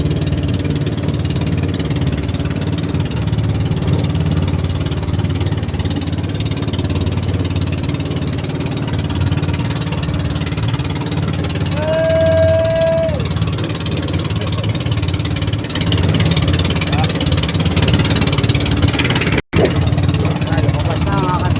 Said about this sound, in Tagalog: para marinig ang andar ng makina nung aking tagasalubong